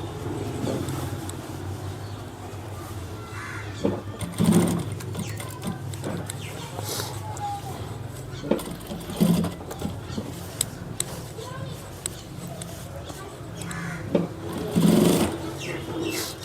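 A tailor's sewing machine stitches the back pocket of a pair of trousers, running in short steady bursts with brief pauses and sharper clicks between passes, close and fairly loud, without speech.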